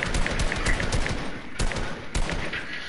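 Rapid bursts of video game gunfire crackle and pop in quick succession, dense and loud, with a few sharper shots standing out near the start and middle and no talk over them.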